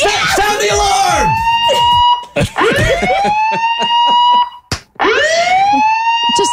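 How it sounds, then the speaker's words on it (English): Loud alarm siren sound effect with repeated rising wails, played alone in three bursts separated by brief gaps. "Sound the alarm."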